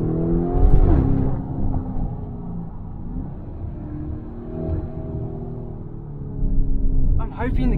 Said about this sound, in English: I'm hoping the camera picks up on the theater that this car has. That exhaust.